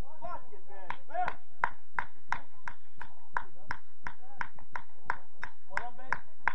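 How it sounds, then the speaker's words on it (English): One person claps steadily at an amateur men's over-45 football match, with about sixteen sharp, close claps in an even rhythm and no talk over them. "Ben, I'm still clapping!"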